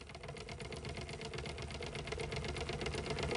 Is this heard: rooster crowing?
no